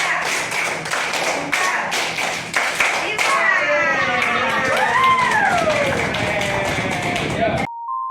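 A group claps in a quick run of sharp, close claps for a counting game, then voices and room chatter take over before the sound cuts off.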